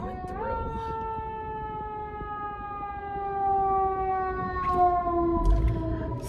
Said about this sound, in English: It is an ambulance coming through.